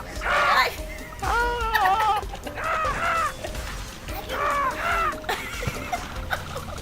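Repeated goat bleats from the game Goat Simulator, wavering and nasal, come in bursts over a busy game soundtrack with occasional crashing effects.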